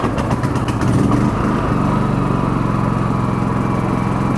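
A Champion 4500W dual fuel generator, just started on its electric start, runs close and loud, a rough catch settling within a second or so into a steady, even engine drone.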